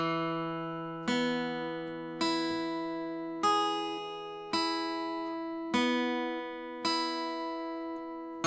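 Guitar picking a riff, a steady sequence of individually plucked notes with chord changes roughly every second, each attack ringing and decaying, clean and close with no voices.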